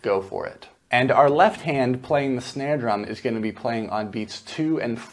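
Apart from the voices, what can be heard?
No everyday noise stands out behind the speech.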